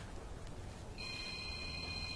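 A telephone rings faintly in the background outdoors in a garden, its electronic warble beginning midway and continuing steadily to the end.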